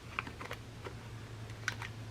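Fabric scissors snip small points off quilt pieces, a handful of faint, crisp clicks spaced irregularly over a low background hum.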